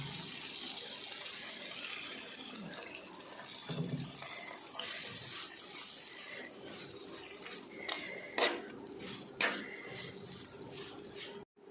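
Vinegar is poured a few teaspoons at a time into a lemon pickle, with light liquid trickles, faint clinks of a spoon and vessel, and a few sharper knocks later on.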